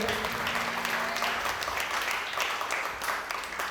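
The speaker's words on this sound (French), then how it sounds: "On applaudit Samara Jaffe" A crowd at a slam poetry competition at the Centre Nelson Mandela applauds poet Samara Jaffe, dense continuous clapping that holds steady, with some voices mixed in at the start.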